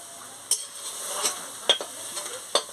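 Spinach greens being stirred in a pan while cooking, with a soft sizzle under several sharp scrapes and taps of a utensil against the metal, spaced irregularly and close by.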